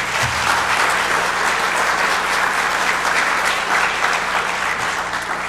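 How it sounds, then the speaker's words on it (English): An audience at a high school senior community awards ceremony bursts into steady, sustained applause, dense and fairly loud throughout with no talk over it. "A round of applause for Mrs. Comley."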